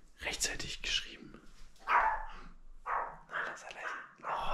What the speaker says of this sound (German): Oh, Leonardo bellt oben.